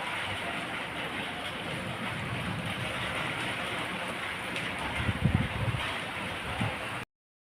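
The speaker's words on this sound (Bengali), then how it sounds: "প্রচন্ড পরিমাণে ঝড় উঠেছে, বৃষ্টির নাম নেই, ঝড় উঠেছে" Strong storm wind blowing outside at night, a steady broad roaring rush with some low gusty buffeting near the end, constant and moderately loud, with no talking, before cutting off abruptly.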